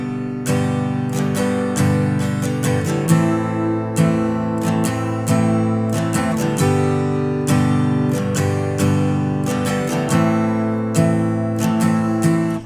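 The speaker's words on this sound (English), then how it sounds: "the final strum pattern you want to work up to is one that sounds like this" Acoustic guitar strums the rhythm pattern of a song's intro, bright chords in a steady, repeating down-and-up rhythm, played alone and close by.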